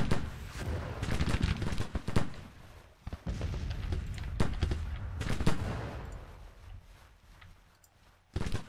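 Massed battlefield gunfire and artillery in Grand Tactician: The Civil War as Lee's army tries to cross a river, with dense rattling musket volleys, sharp cracks and deep cannon booms that thin out toward the end.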